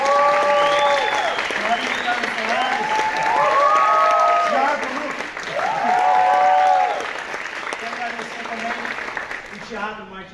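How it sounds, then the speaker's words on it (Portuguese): Audience applause fills a theatre after a stage play performance, steady clapping lasting about ten seconds and fading at the end, with music and voices over it. "Gostaria de pedir uma salva de palmas aqui para esse elenco."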